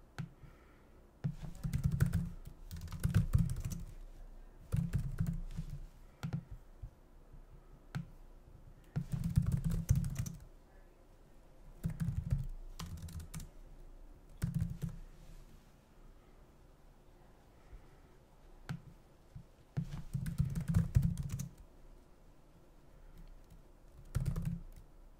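Someone types on a computer keyboard in intermittent bursts of quick clicking keystrokes, separated by quiet pauses, close by and without talk.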